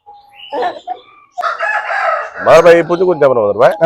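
A thirteen-month-old white Coimbatore Salem rooster weighing about four kilograms crows loudly and close, a few short clucks leading into a full, strained cock-a-doodle-doo call near the end.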